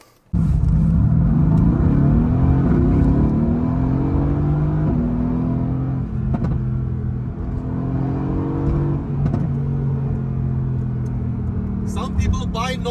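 A Mercedes-AMG GT S engine revs up loudly and close, a deep rumbling roar that climbs in pitch through several rising sweeps and settles into a sustained drone, continuing almost the whole time before dropping away at the end.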